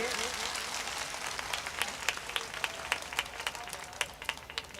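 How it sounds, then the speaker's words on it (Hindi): Applause rises from the audience at a Hindi poetry recital, a fairly soft, continuous patter of hand claps with sharper individual claps standing out, heard without any talking. "जरा एक बार जोरदार तालियां बजा दीजिए"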